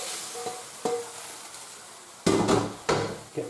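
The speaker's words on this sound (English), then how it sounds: "using a spatula, I'm going to give it a good mix in, get it all mixed in there" Beef stroganoff mixture stirred with a spatula in a pan on the heat, a few scraping, sizzling strokes with a soft knock, close and clear with no talk.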